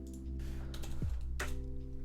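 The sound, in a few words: typing code on a computer keyboard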